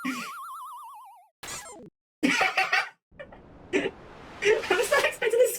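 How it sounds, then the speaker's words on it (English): Springy, wobbling squeaky-toy noises pop up in a cartoonish video game, a warbling boing followed by bursts of squeaks and chirps, with voices talking in between. "I was not expecting this squeaky toy noise."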